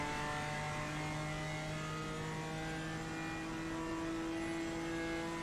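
BMW and Camaro GT4 race cars circulate at Bathurst in a racing video game, their engines droning in a steady, sustained tone throughout with no break or pause.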